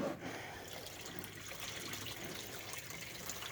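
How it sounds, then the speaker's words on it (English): Water being dumped out of a turtle pond pours and splashes steadily in a continuous, fairly quiet wash of liquid noise, with no talk. "I have to dump this water anyway."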